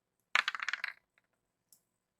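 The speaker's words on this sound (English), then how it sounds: "Dice roll noises." Dice clatter on a tabletop during a tabletop roleplaying game, giving a quick burst of sharp rattling clicks that fades in under a second, then two small taps, all close and clear against silence.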